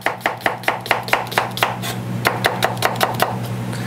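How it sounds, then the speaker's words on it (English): A knife rough-chopping vegetables into julienne on a board, a quick steady run of crisp close taps with brief pauses, alone without talk. "I'm just going to kind of do a rough chop on this, just a rough julienne"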